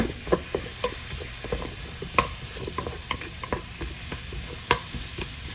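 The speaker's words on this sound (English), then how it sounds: "we're just gonna stir this around. Make sure it doesn't burn" Squirrel being cooked Hmong style, a spatula stirring it in a hot pan with water just added and the heat on medium-high. A steady sizzle runs under sharp, irregular scraping clicks from the stirring, close and fairly loud, with no voices.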